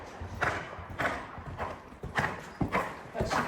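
A horse's hooves beat out a rhythmic three-beat canter during a medium canter in a dressage test, with clear repeated clip-clop thuds at close range.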